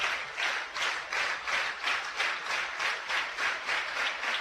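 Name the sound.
softball crowd cheering and applauding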